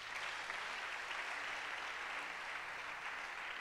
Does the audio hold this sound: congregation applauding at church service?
yes